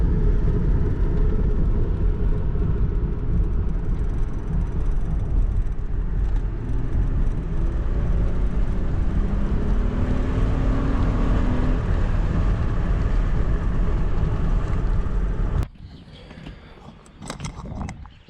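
A 2005-2010 Honda Odyssey engine idling after engine and transmission mount replacement, a steady low hum at close range that cuts off abruptly near the end, leaving faint handling noises.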